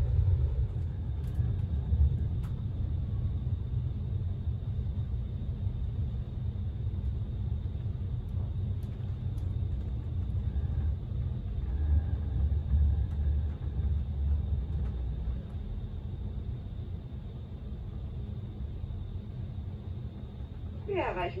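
A German Intercity train runs toward Bruchsal station with a steady, deep rumble and rolling noise throughout, and faint brief clicks on top.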